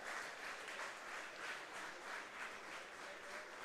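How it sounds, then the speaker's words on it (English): Baseball crowd at an IBL game between the Welland Jackfish and London Majors clapping along in steady rhythmic waves, a fairly distant, diffuse applause from the stands during the first inning. "Fans clapping along, trying to cheer on Owen Boone through this first inning."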